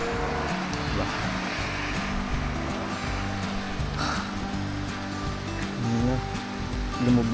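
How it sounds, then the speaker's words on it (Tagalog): Steady rain pours down around a cyclist on a bike ride, a continuous wash of hiss and splashing with no break, close and fairly loud throughout. "Lumalakas yung ulan."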